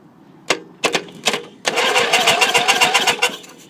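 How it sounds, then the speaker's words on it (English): Lawn mower engine's starter motor cranking on jumper cables, with three short separate bursts followed by a sustained, steadily whirring crank of about two seconds, close and loud. "Alright, starter works."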